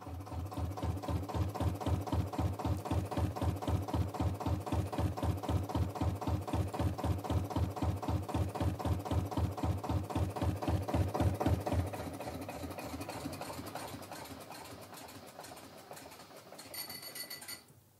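Engine idling effect played back for a stage show, with a steady rhythmic chugging pulse that runs loud and even for a long stretch before easing to a softer, lighter idle toward the end.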